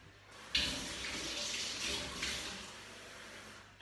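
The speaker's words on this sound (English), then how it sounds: "1 cup of water weren't enough, so I'm going to go and fill it up again" Tap water runs into a cup being refilled for dumpling dough, a steady splashing stream that rises and falls in intensity over a few seconds, with no talking.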